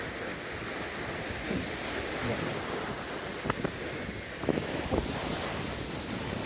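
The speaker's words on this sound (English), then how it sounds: "Can't hear anything else with the waves." Ocean waves washing onto a windy shore at a campsite, a continuous broad rush of surf and wind noise with a few soft thuds, fairly faint and with no one speaking.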